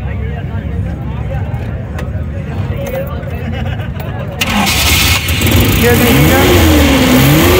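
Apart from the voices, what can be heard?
used Suzuki Ravi pickup engine starting and revving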